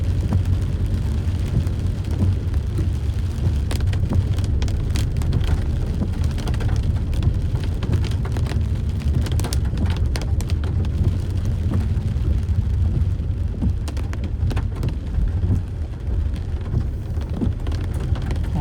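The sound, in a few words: heavy rain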